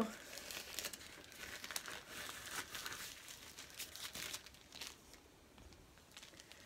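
Close, quiet crinkling and crackling of a Sephora hand mask glove sachet being torn and pulled open, in irregular rustling bursts.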